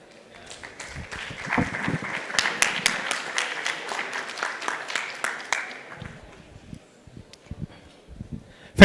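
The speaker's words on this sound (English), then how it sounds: "So warm applause for Szymon." Warm audience applause at a blockchain and AI meetup, a dense burst of clapping from a room of attendees that swells for several seconds and then thins out to scattered claps.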